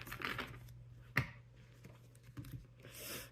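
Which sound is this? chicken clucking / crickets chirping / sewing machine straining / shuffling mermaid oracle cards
shuffling mermaid oracle cards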